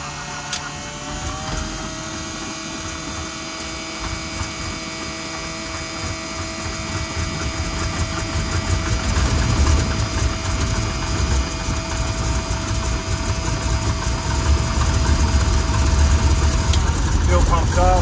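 Grumman Goose aircraft engine starting and settling into an idle, a steady loud mechanical drone that builds in strength and rumble over time, with a crew voice calling out checks over it.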